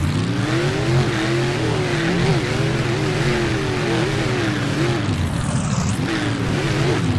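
Racing trucks in a video game rev hard off the starting line on a custom track, engines roaring loudly and continuously with rising and falling pitch, plus a brief squeal near the end.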